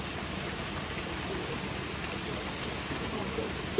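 Steady rain falls during a flood that has turned roads into canals, a soft, even hiss that stays faint and continuous throughout with no other clear sounds.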